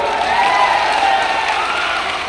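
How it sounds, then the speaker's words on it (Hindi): A crowd at a political rally applauds and cheers in a steady, loud wash of clapping that tapers slightly toward the end. "विजेंद्र बाबू के लिए जोर की ताली बजाइएगा।"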